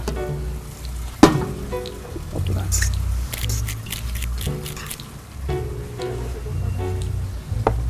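Food sizzling in a frying pan for macaroni po-flotsky is stirred, with wet squishing scrapes and crackling spits, a sharp clack near the start, and someone talking throughout.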